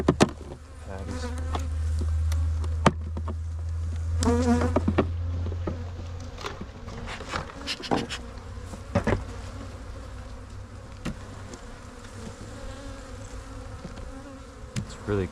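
Honey bees buzz loudly in an opened hive during cold weather, a dense close droning hum with occasional clicks and knocks of the hive being handled.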